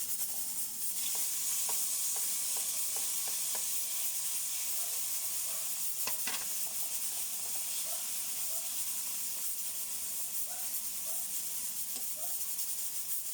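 Onion and tomato sauté in a pan with a constant bright sizzle and hiss, and occasional soft clicks of stirring come through close by.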